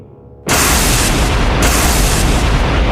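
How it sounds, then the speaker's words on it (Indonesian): A loud, sudden blast erupts into a dense, roaring rumble that keeps surging with fresh bursts, like a chain of explosions going off back to back inside a room. "Ledakan beruntun mengguncang ruangan."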